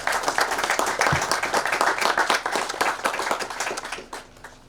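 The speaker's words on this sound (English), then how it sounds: "they deserve a round of applause for that" A crowd applauding steadily at a ribbon cutting ceremony, with dense, close clapping that gradually fades out at the end.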